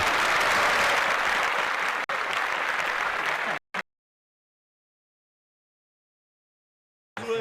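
Dense applause on a podcast plays loud and continuous for several seconds, breaks off abruptly into silence, then returns briefly at the very end.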